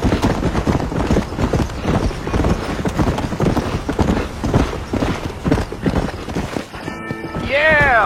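Horse hooves clip-clopping at a steady gait in a Western video game, continuous rhythmic clopping under voices talking, with a whinny near the end.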